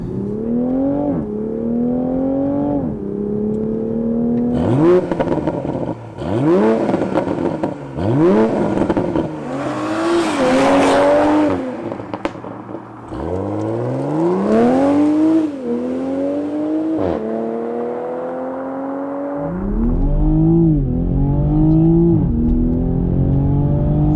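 A 2020 Toyota Supra's powerful engine revs hard at about 80% throttle through several rising gear pulls, each climb in pitch cut short by a shift, loud and close with no talking.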